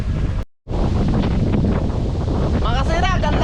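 Strong wind buffets the microphone in a steady, loud roar, with a brief dropout near the start and a faint whistling tone toward the end.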